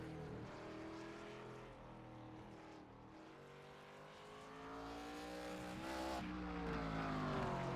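An ARCA race car on a hot lap at Lime Rock Park in a racing game, its engine droning steadily with rising and falling pitch through gear changes, continuous and moderately loud with no talk.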